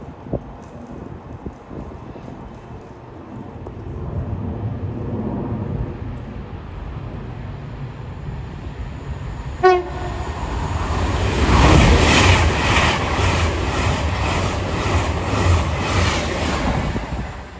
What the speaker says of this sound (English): coming through now will be another Avanti West Coast stairs going from Bakerloo Street to London Euston